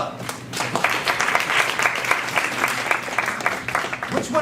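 An audience in a theatre applauds steadily, with dense clapping and a few voices calling out over it.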